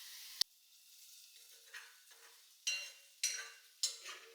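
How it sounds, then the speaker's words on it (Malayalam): Small onions (shallots) frying in oil for a chicken curry in a home kitchen, heard as a faint steady sizzle with several louder bursts of hissing, likely from stirring or adding to the pan. "അപ്പോൾ കറി ഏതായാലും ചെറിയ ഉള്ളി വറുത്തിടുകയാണ് അമ്മ"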